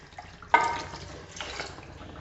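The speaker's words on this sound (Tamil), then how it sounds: "தேவையான அளவு தண்ணி சேர்த்துக்கிறேன்" Water is poured into a pan of chicken curry, a sudden close splash followed by a softer trickling pour that fades over a couple of seconds, with no speech.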